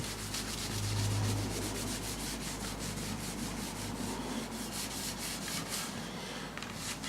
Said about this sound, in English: I'm just going to rub a coat of wax on.